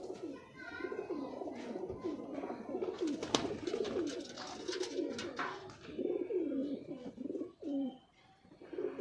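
High flyer pigeons in a loft setup in Attock, Punjab, including a big black-and-white male, coo in repeated low, throaty rolls close by, with faint voices and background noise.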